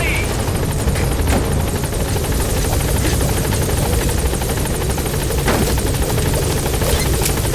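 The Pequod helicopter from Metal Gear Solid V beats its rotor in a loud, unbroken roar that fills the whole stretch evenly, heavy low thumping under a bright hiss, with a few brief clicks on top.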